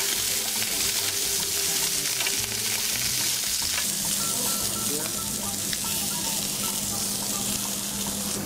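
Steady, close sizzling and crackling of sirloin steak frying in a very hot pan, continuous throughout with no talk.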